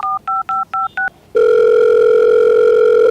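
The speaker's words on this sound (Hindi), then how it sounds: "अब मिला फोन।" A telephone is dialed: five quick, evenly spaced touch-tone beeps, a brief pause, then a loud steady tone that holds to the end. No voices are heard.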